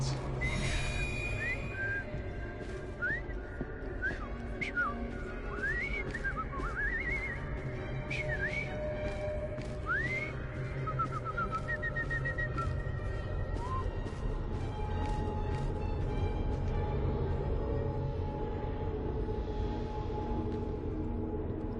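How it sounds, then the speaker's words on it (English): A character in Assassin's Creed Syndicate whistles a string of short rising and falling notes over a steady background hum of game ambience, moderately loud and alone without talk. "I've just learned to whistle."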